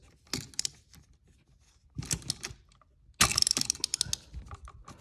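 A screw on an electrical receptacle being tightened down over a wire wrapped counterclockwise around it, in three bursts of close ratcheting, grinding clicks separated by quiet pauses.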